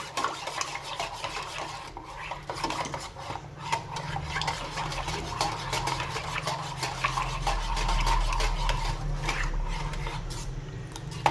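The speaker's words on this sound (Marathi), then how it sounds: "आता हे सगळं मस्त मिक्स करून घ्यायचं आहे" Buttermilk being mixed with sugar and salt, a continuous close rubbing and swishing stir with faint scraping against the bowl, steady throughout.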